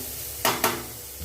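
A spoon scrapes twice through sweet bitter gourd fry in a pan, two short, close strokes about a fifth of a second apart, with a faint third scrape trailing off over quiet kitchen background.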